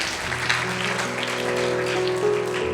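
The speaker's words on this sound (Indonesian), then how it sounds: "Berikan tepuk tangan." A Christmas service congregation breaks into sustained applause, a broad crackle of clapping layered over held instrumental chords that shift pitch partway through.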